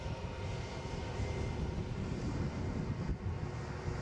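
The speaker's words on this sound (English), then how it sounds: "Looks like we have our Loganair arrival, so I'm going to cut to that momentarily in our Flying for All Pride livery" A Loganair aircraft in Flying for All Pride livery arrives at Edinburgh Airport, its engines making a faint, distant rumble that holds steady with no voices over it.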